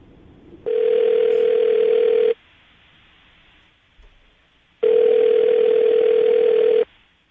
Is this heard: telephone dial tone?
yes